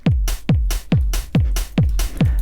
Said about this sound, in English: this is the best hi-hat sound. It's the Casio noise. It sounds like this.